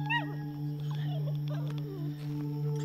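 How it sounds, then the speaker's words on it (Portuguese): Dogs near a jararaca pit viper in the field yelp and howl in a wavering, faint chorus over a steady low hum, with scattered rustling throughout. "Tem uns cachorros aqui perto, pessoal, eles não podem encostar nesse animal aqui não"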